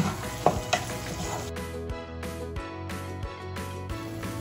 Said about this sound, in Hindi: सब्जियों को मैंने अच्छे से मसाले में मिला लिया है और इसको अच्छे से मैंने 4 से 5 मिनट भून लिया है